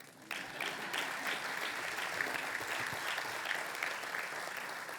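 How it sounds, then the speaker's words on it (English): An audience claps steadily through a fundraising gala for Special Olympics Maryland, a dense, even spread of many hands at moderate distance after a brief quieter start, with no voices over it. "You clap."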